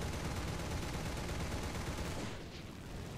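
An M16 anti-aircraft vehicle in the War Thunder game fires its machine guns in a steady, rapid rattling stream that sounds fairly distant, then breaks off after a couple of seconds.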